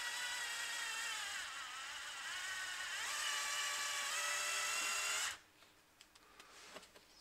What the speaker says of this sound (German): Und zwar habe ich hier so schöne selbstschneidende Schrauben. Die setzen wir jetzt einfach mal an.